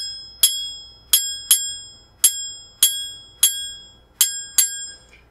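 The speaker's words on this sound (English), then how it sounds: "this really cute little French horn bell, no, it doesn't play, but if you hold it a certain way, it rings really beautifully." Small decorative French horn bell rung by hand, eight bright metallic strikes at irregular intervals, each ringing out and decaying quickly, close and clear with no voices.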